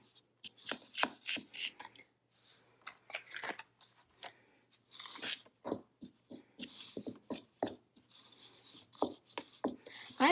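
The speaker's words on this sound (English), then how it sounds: "Now I'll grab my spoon and mix everything just a little bit" Spoon stirring cloud dough ingredients in a bowl, a dry scraping and rasping with irregular strokes and short pauses, close and fairly quiet.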